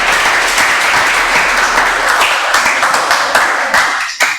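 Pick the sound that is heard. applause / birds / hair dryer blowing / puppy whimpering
applause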